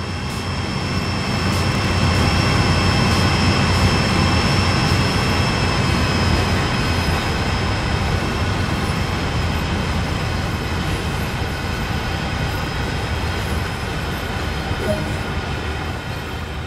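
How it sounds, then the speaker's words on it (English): Train running in the video game Train Sim World 2, a continuous rumbling drone with a steady high whine, rising slightly then holding even throughout with no talk. "Train Sim World allows you to ride and drive trains"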